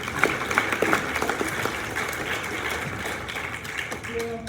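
An audience at a high school awards ceremony applauds steadily throughout, a dense mix of many hands clapping at moderate distance, with some brief talk mixed in near the end.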